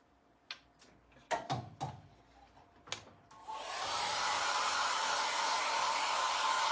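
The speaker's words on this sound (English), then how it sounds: "let's give that a dry" Hair dryer blowing on a craft project, switching on after a few scattered clicks and knocks and then roaring steadily and evenly until the end, close and loud.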